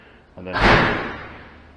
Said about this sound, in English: the door just blew shut